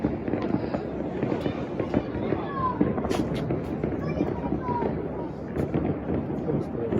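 New Year's fireworks going off nearby in Catania: dense, continuous crackling and popping bursts with a few louder bangs, fairly close, with voices talking underneath.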